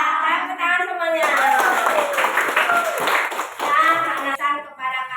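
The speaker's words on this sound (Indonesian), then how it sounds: "Tepuk tangan semuanya." A room of schoolchildren claps their hands together for several seconds, dense and steady, with voices chanting over the clapping and speech on either side.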